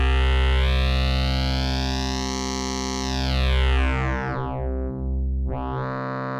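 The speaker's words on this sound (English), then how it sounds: "thus folding our waveform and giving us added harmonics into the sound" Modular synthesizer tone run through a wavefolder that adds harmonics, a steady buzzing note whose brightness swells and then sweeps downward, dipping briefly before returning, heard alone.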